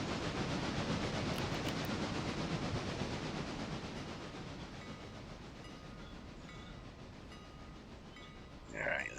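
Train cars roll in the Railroader video game with a steady rumbling clatter that fades gradually, ending with a short metallic clank near the close.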